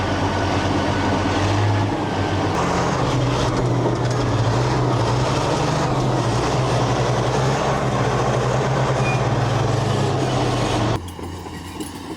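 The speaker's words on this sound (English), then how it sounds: "So you're at high idle now, let up, and it'll throttle up" A Caterpillar D10 bulldozer's diesel engine roars loudly and steadily at high idle with a deep droning hum, then drops off sharply near the end.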